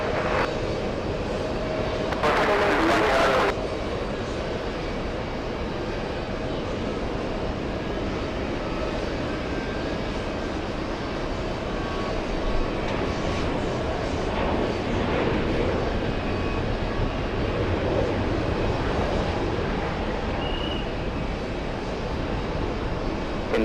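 An Endeavor jet airliner takes off from runway 22 right at JFK airport. Its engines give a steady, dense roar throughout, with a brief brighter surge early on.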